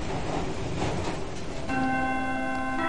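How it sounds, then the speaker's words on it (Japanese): A school chime rings in the video game Lost Child, sounding a sustained multi-tone electronic chime that begins partway through after a stretch of noisy background and carries on to the end. "チャイムが鳴り響くと同時に教室内は一斉にざわめき出す。"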